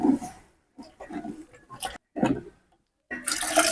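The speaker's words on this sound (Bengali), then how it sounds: "এই যে জলটা দিয়ে দিলাম" Water poured into rice in a pot for home-style chicken biryani, with a few short, intermittent splashy sounds before a louder, steady rushing pour toward the end.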